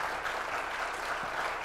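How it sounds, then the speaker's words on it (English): Steady applause from a church audience for a guest speaker, continuous dense clapping at moderate loudness with no talking. "Can we have a round of applause, please?"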